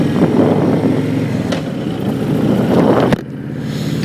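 A 2007 Honda VTX 1300 V-twin motorcycle is ridden with a loud, close, continuous engine rumble that holds steady and then drops abruptly near the end, as if the throttle eases off.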